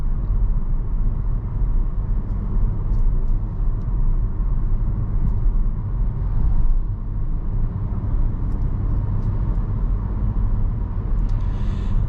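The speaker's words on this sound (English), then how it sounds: "the engine does stay nice and quiet." A 2025 Kia Soul EX engine hums quietly on a test drive, blending into steady road and tire rumble inside the cabin, a continuous even drone with no sharp revving.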